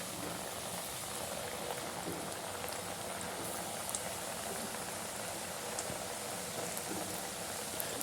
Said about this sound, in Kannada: ಈಗ ಡೈರೆಕ್ಟ್ ಕಾದಿರೋ ಎಣ್ಣೆನಲ್ಲೇ ಡೀಪ್ ಫ್ರೈ ಮಾಡಬೇಕು ಫ್ರೆಂಡ್ಸ್